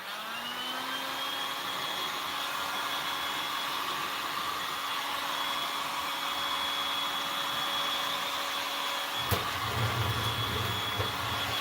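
A heat gun on a low setting blows a steady, even whirring hiss with a faint motor whine, close and constant. Near the end a brief knock breaks in and a deeper hum joins it.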